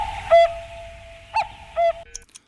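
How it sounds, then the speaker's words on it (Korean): A cuckoo sound effect plays on a radio show, a clear two-note call heard three times in quick succession, followed by a faint beep. "뻐꾸기 소리 나오면"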